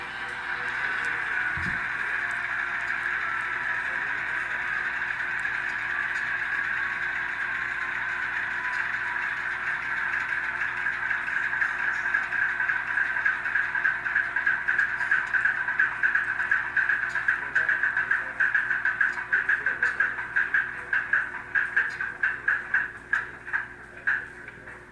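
Atlas B23-7 model diesel locomotive fitted with an ESU LokSound decoder, playing its shutdown sequence: a small speaker's steady engine drone that runs on, then becomes a rhythmic chuffing pulse that slows and fades near the end.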